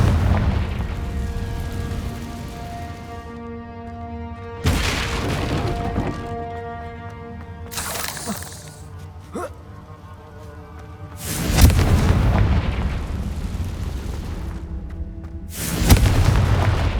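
Confringo fire-spell explosions in Hogwarts Legacy: four loud booming blasts spaced several seconds apart, each a sudden burst that rumbles and decays, over a sustained low game background.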